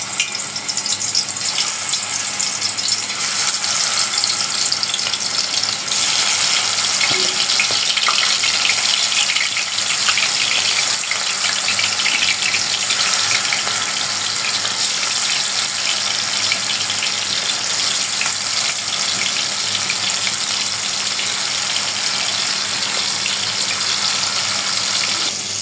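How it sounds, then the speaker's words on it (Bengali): Marinated loitta fish (Bombay duck) fry in hot oil in a karahi on the stove, giving a steady, dense hiss and crackle that runs unbroken and fairly loud throughout, with no voices. "চুলায় কড়াইতে তেল দিয়ে দিছি। এখন তেলটা গরম হলে মাছগুলো ফ্রাই করব।"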